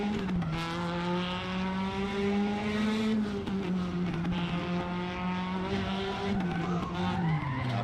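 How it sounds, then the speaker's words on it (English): Video-game car braking hard and skidding, a loud, sustained tire squeal with a wavering pitch over engine noise, close and continuous for several seconds with no talking. "It's not the best braking I've ever done in my life."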